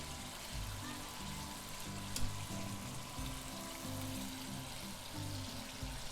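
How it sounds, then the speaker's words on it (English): Crab fat fried chicken bubbles and sizzles steadily in hot oil, a soft, continuous frying hiss with a low rumbling undertone and no voices. "I've noticed that it's not so violently frying now"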